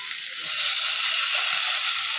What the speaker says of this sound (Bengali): সোয়াবিন মাখাটা দিয়ে দিলাম ওই কড়াইয়ের মধ্যে।